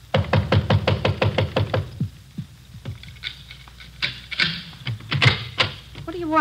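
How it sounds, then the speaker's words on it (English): Rapid run of firm knocks on a locked door, loud and close for about two seconds, then scattered thuds and movement as voices speak over the quieter stretch that follows. "Try the door."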